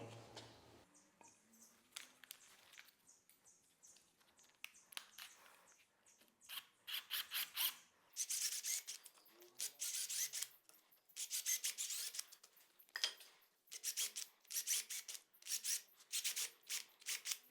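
A file rasps against metal to enlarge holes for a dining table leg, starting with sparse scrapes and building into steady, rhythmic close strokes with brief pauses.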